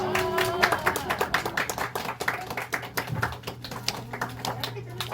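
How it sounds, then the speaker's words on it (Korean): Brisk, scattered hand clapping from a small group at a children's screen golf award ceremony, with claps overlapping in an uneven patter that rises and falls and continues steadily to the end. "박수"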